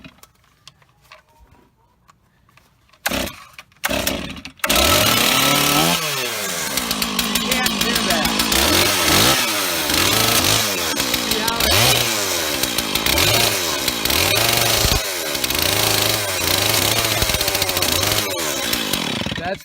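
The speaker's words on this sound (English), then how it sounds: "like a chainsaw like this, this has a full chipper on it" A Stihl chainsaw with full chipper chain sputters and starts after a few quiet seconds, then runs loudly close by, its engine revving up and down repeatedly as it cuts.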